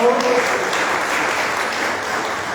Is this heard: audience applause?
yes